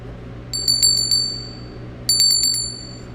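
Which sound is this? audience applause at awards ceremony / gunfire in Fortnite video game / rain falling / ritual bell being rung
ritual bell being rung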